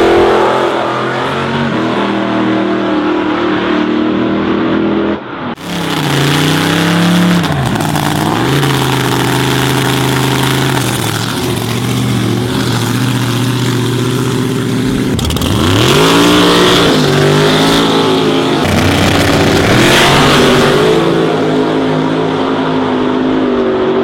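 A race car at full throttle on Malmø Raceway screams past loudly, its engine revving and rising through gears, dipping briefly on shifts and surging again in repeated sweeps for over twenty seconds.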